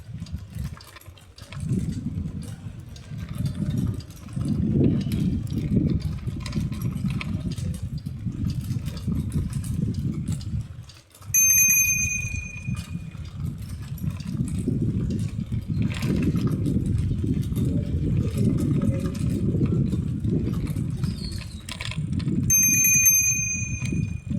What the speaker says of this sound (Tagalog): lakas din ng bell